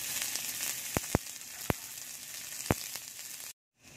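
Onion sizzles in hot oil in a wok, with a steady bright crackle and a few sharp pops, ending abruptly in silence.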